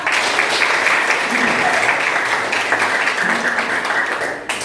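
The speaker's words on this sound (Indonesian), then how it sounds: "Tepuk tangan semuanya anak" Schoolchildren in an Indonesian classroom clap together in a steady, loud, dense burst that carries on throughout, with faint voices mixed in beneath the clapping.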